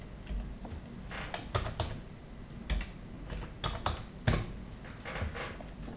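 Fingers tap out a date on a computer keyboard, close, quick key clicks arriving in short irregular bursts with pauses between them.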